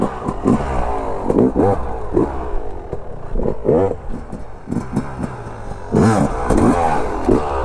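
A KTM 150 SX two-stroke motocross bike rides over a small jump, its engine buzzing and revving in repeated rising bursts with brief drops between, loud and fairly close, with no speech.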